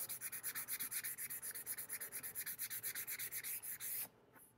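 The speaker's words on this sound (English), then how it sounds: "I'm just going to go in here and lightly sand this" Medium-density fibreboard skim-coated with body filler is sanded by hand in quick, even back-and-forth strokes, a soft rhythmic scratching of about thirty passes that stops abruptly near the end.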